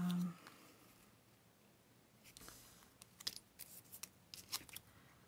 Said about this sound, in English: now what I'm doing is just cutting this down